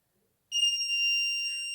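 A homemade distance-measuring rangefinder's buzzer going off when an object comes too close, a sudden steady high-pitched electronic tone that starts abruptly after half a second of silence and holds.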